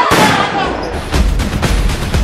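A loud gunshot in an action film trailer: a sharp blast at the start followed by rumbling reverberant booms and further bursts, close and forceful.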